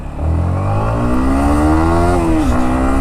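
A 2021 Yamaha MT-15 BS6 motorcycle revs hard in first gear, its loud, close engine note climbing smoothly and steadily before dipping slightly near the end.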